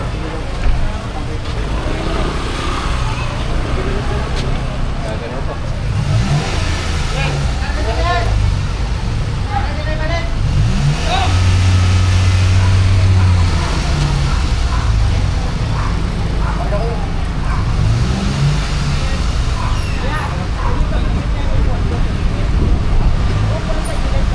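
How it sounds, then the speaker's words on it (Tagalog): Heavy road traffic streams past: a continuous low rumble of many cars, buses and trucks, with a deeper engine swell midway, while people talk nearby over it. "Marami-marami, mga sasakyan, no?"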